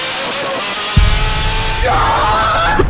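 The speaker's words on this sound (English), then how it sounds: "Like this footage of someone driving like a maniac" Footage of a car being driven recklessly fast: after a quiet opening, a loud, steady engine roar cuts in and holds, with a rising tonal whine near the end.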